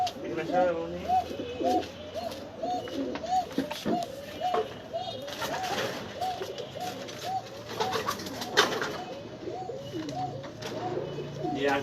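Pigeons in a loft coo steadily and repeatedly, with several birds overlapping close by in a continuous rolling chorus, and faint children's voices in the background.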